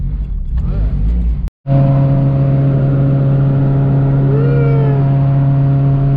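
A Honda Civic cruises along the highway with a steady interior engine drone and road hum, its pitch rising as it accelerates, after a brief cutout.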